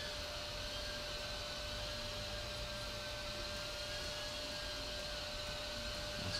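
Small iFlight ALPHA A85 cinewhoop drone hovering over drying laundry, a constant high whine with a steady airy hiss, even and unbroken throughout.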